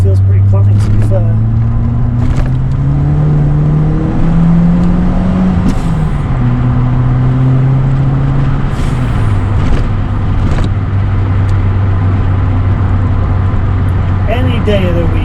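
A MK3 Ford Escort RS Turbo pulls away on a road, its engine note sweeping up and dropping through gear changes, loud and close, with a steady low drone throughout.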